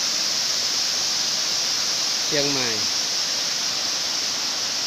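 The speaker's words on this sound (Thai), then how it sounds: "น้ำตกสีสังวาลอุทยานแห่งชาติผาแดง" The Si Sangwan waterfall at Pha Daeng National Park near Chiang Mai gives a constant broad rushing roar, with a short spoken phrase briefly heard over it midway.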